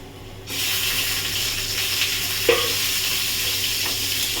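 Egg and potatoes with onion frying in a frying pan, a loud steady sizzle that swells in after a quiet start, with one sharp clink of a utensil midway.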